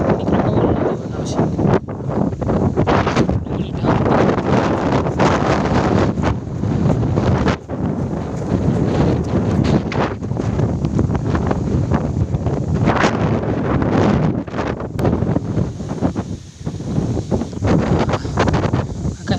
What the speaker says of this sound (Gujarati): વાવાઝોડા જેવું થઈ